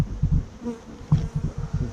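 Bees stirred from a wall cavity during a removal in Portland hum and buzz in close, irregular bursts, a busy swarm sound with no talking.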